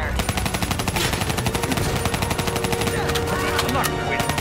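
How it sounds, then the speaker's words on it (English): Covering fire in Call of Duty Black Ops III comes as a steady, rapid machine-gun rattle, loud and close throughout, with faint voices underneath. "Give me some cover fire."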